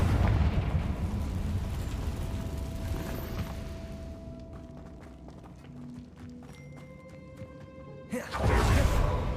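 An explosion spell is cast in the Hogwarts Legacy video game inside an old cave, a rumbling blast that fades into crackling debris and game effects, ending in a second loud surge.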